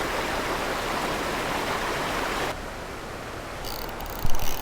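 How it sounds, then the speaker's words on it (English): River water swirls and rushes steadily at a bass fishing spot, a loud continuous wash that drops off partway through, with a few faint knocks near the end. "the way this water is swirling, it almost gives me vertigo standing here"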